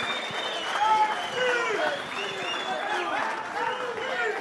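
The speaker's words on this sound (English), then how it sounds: "A round of applause for the two gentlemen," Crowd applause rings out for two boxers after their bout at a boxing event in a country club resort and casino, a dense clapping wash mixed with voices and chatter from the audience.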